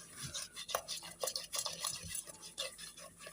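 Sugar stirred in a pot with a spoon for a honey cake, scraping and clinking strokes repeating irregularly, close and fairly quiet.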